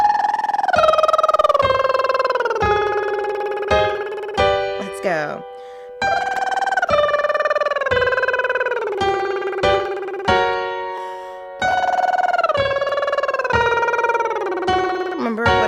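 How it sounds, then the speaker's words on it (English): Sung vocal warm-up: a voice does lip trills descending an arpeggio, repeated in three or four phrases with short gaps, bright harmonic pitches sliding downward, close and fairly loud, with a brief spoken word at one point. "let's do those lip trills again"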